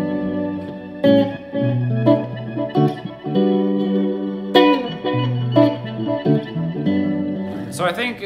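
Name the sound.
guitar with ice reverb delay effect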